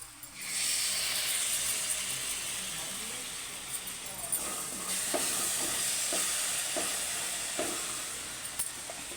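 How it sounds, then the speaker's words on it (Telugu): Ground masala paste is stirred into hot oil for a dhaba-style egg curry, giving a hissing sizzle that swells after a quiet start, with repeated spoon scrapes and taps. "మసాలా వేసిన తర్వాత మొత్తం ఇలా కలుపుకోవాలి"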